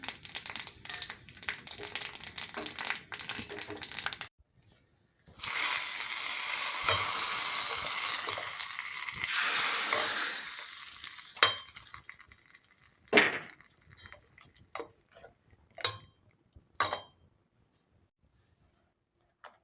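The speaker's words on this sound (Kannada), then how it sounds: "ಒಗ್ಗರಣೆಗೆ ತುಪ್ಪ ಹಾಕ್ಕೊಂಡಿದ್ದೀನಿ ಮೆಣಸು ಸಾಸಿವೆ ಜೀರಿಗೆ ಹಾಕ್ಕೊಳ್ತೀನಿ" Pepper, mustard seeds and cumin dropped into hot ghee for tempering: a sharp sizzling burst after a pause, fading into scattered pops, crackles and utensil clinks before going quiet.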